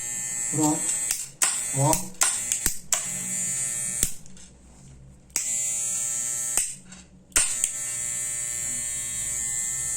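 A Wahl Super Tape hair clipper runs with a loud, steady electric buzz. Several brief cutoffs and restarts break it up, probably from the on/off switch being worked, and a short voice sound comes in near the start.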